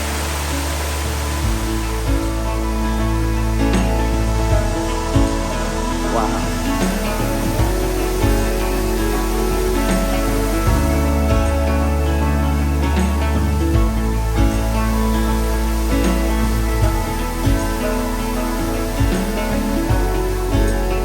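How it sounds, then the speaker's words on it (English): Water rushes steadily over the top of a rare waterfall along the Mekong in Ubon Ratchathani, a broad, constant roar, heard close and loud with tonal background music underneath for the whole stretch. "So that's actually the top of the waterfall."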